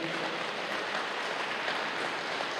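A church congregation applauds steadily throughout, a dense, even wash of clapping that holds at a constant level from start to finish with no speech over it.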